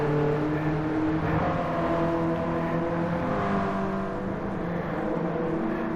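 A BMW E30 M3 race car's engine drones steadily at high revs on the Suzuka circuit, a loud, continuous buzzing note that holds nearly constant with slight pitch shifts throughout.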